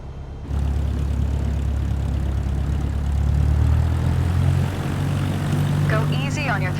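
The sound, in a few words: aircraft engine throttle increasing in Microsoft Flight Simulator 2024 video game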